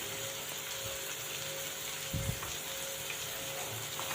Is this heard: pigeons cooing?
no